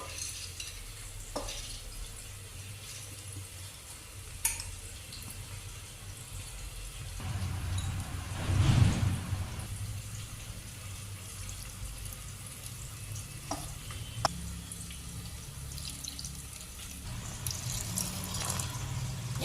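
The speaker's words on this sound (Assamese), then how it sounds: "এয়া পানী দিছোঁ, গোটেইখিনি প্ৰেছাৰত একেলগে দি লৈছোঁ" Water is poured into a pressure cooker holding lentils, with a low continuous splash that swells briefly in the middle, amid kitchen clatter and faint sizzling and no speech.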